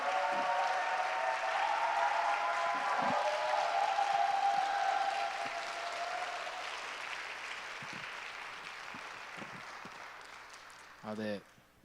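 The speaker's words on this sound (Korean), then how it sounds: "귀한 박수와 함성 감사합니다" Worship service crowd at a young adults' church service applauding and cheering for a woman preacher, a sustained loud wash of clapping and shouts that gradually tapers, then a brief thump and talk near the end.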